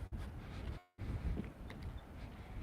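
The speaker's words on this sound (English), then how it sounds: "It's kind of windy out here." Gusty wind buffets an outdoor microphone in loud, rough low rumbles that drop out briefly near the one-second mark, then return steadily.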